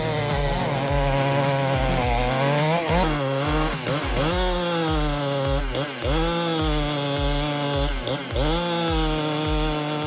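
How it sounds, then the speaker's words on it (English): Chainsaws cut down a leaning tree, their engines snarling loudly up close with repeated revving surges as the blades bite into the wood, with no voices heard. "the chainsaws roar"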